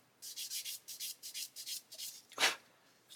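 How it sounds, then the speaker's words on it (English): A small scale-model aircraft tyre is rubbed with an 800 grit sanding sponge in about ten soft, evenly paced close strokes, followed by a louder single scrape. "I'm just going to sand this tyre to get rid of that mould seam in the middle"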